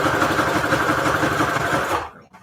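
A sewing machine stitches a paper advertisement collage onto a tag, running loud and steady at close range with a continuous mechanical whir, then stopping abruptly near the end.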